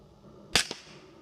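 A rifle suppressed with a Centurion silencer fires 147 grain Minuteman Munitions, giving one sharp muffled crack with a quick second impact shortly after, and no voices.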